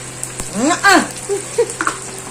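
Food fries on a dry non-stick stone griddle without oil, a soft sizzle under brief bursts of nearby talk.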